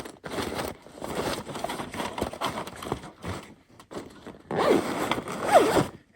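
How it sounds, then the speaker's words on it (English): Zipper on a portable pop-up fire pit's carry bag being drawn closed, a few quick rasping zips with rustling fabric handling between them, close and fairly loud. "And it zips up, and there you go."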